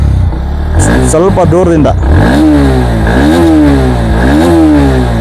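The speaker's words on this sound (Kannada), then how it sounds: "ಇವಾಗ ರೇವ್ ಮಾಡ್ತೀನಿ." Bajaj Pulsar NS160 2024 motorcycle engine revving loudly nearby, with repeated rising and falling throttle blips over a steady idle, while someone talks briefly at the start.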